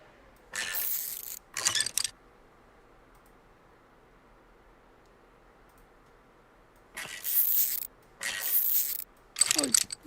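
Ratchet clicks from removing a muffler and tailpipe in Car Dealer Simulator, several short bursts of rapid metallic ratcheting separated by a long quiet gap.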